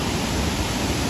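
Steady broadband roar of the Chappanthottam waterfall, a hidden waterfall on the way to Wayanad, close and continuous with no pauses and no voices.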